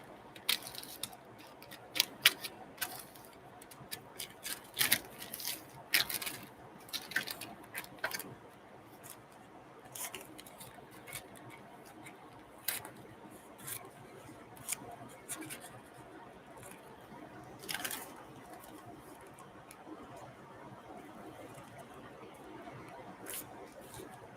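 Scissors snip through a handmade craft bag in repeated short, crisp cuts close by, irregular in rhythm and fairly quiet, with brief rustles of the material between snips.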